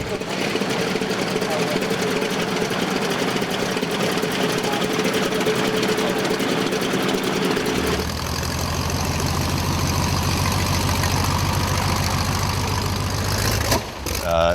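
Loud, steady drone of a Continental 220 radial aircraft engine with a rough, throbbing character that shifts to a deeper, lower rumble partway through, running continuously.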